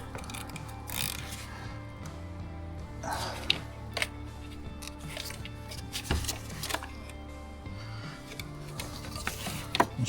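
Ratchet with a 24mm socket loosening the fuel filter top on a Peugeot Partner or Citroen Berlingo, heard as faint, scattered clicks and creaks over a low background hum, close but quiet.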